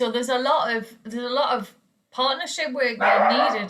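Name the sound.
dog barking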